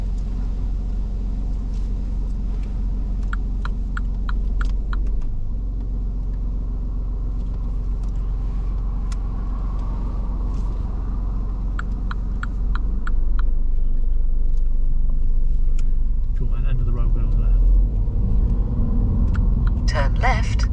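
A car pulls away from the kerb on a mock driving test in Swindon, its engine rumbling steadily and rising in loudness near the end, heard from inside the cabin with occasional faint ticking.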